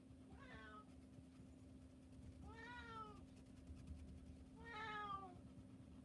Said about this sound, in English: And yes, you are hearing a cat meow.